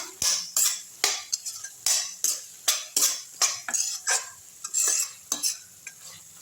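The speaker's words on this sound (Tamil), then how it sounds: "இப்போ இந்த நெல்லிக்காய் எடுத்து தூக்கி கொட்டிடலாம் நல்லா வதக்கி விட்டுடலாம்" Gooseberries for a pickle sautéed in a pan, a spatula scraping and stirring in quick rhythmic strokes over a light sizzle, close and clear with no talking.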